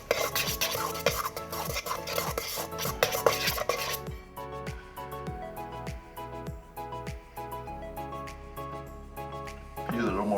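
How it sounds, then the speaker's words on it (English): Saltfish fritter batter being mixed in a bowl, a run of rhythmic clinking and scraping strokes, busy at first and then steadier with a regular beat, while background music plays throughout. "I'm gonna go ahead and give it a quick mix up."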